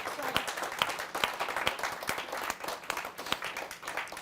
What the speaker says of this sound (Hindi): आइए तालियों के साथ स्वागत करते हैं भाई मनवीर मधुर का।